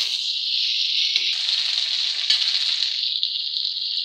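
Potato dosa filling frying in a pan, a steady bright sizzle held at an even level throughout with a few faint scraping touches, no talking over it.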